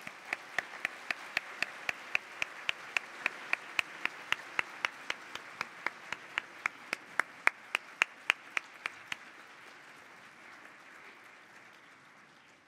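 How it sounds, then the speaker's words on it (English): An audience in a conference plenary hall applauds: steady rhythmic clapping of many hands, fairly distant and moderate, that thins out and fades after about nine seconds. "please give him a round of applause"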